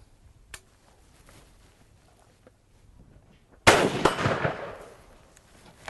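A single sharp rifle shot from a Nikon-scoped .308 firing a 150 grain bullet at about 2,800 feet per second, loud and close, with a short rolling echo on an outdoor range after a faint click and quiet.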